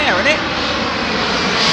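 Boeing 787 Dreamliner with GEnx or Trent 1000 engines arriving at London Heathrow, giving a steady loud jet roar that fills the short clip, with a brief voice over it at the start.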